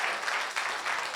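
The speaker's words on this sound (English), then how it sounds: "Yeah, come on, big round of applause then." Dense round of applause from wedding guests after a best man's speech, continuous and fairly loud for a brief moment.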